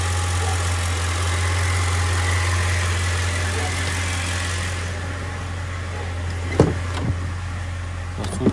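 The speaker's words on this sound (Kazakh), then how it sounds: "Жақсы мотор." A Mercedes Sprinter W906 van fitted with a swapped-in M113 5.0 petrol engine idles with a steady, even low hum close by, with a few sharp clicks near the end.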